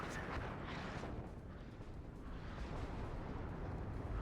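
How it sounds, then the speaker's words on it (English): Artillery in the military strategy game WARNO: a dense, continuous low rumble of distant explosions and booms, faint and heavy, with no talking in it. "Already the artillery here."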